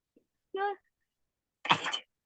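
One person sneezes up close: a short voiced intake of breath, then a brief pause, then a sharp, noisy burst, with nothing else around it.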